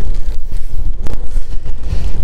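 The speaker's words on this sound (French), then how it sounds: "Il y a un petit vent de dos toujours là." Wind buffets the microphone of a cyclist riding on a spring tour through Normandy toward Mont-Saint-Michel, a loud, close, continuous low rumble that gusts unevenly throughout.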